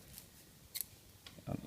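Scissors snip holes in a filter sheet being fitted to a mini space heater, giving a few short, crisp cutting clicks spaced apart, close and fairly quiet.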